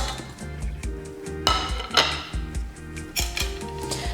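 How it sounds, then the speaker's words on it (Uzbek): Soft-cooked cauliflower being mashed with a fork for baby food: rhythmic clinks and scrapes of metal against a bowl, several sharper taps at irregular intervals over a low steady hum, no voices. "Sanchqi yordamida yoki pyure tayyorlaydigan talkushka yordamida gulkaramlarimizni yaxshilab ezib olamiz"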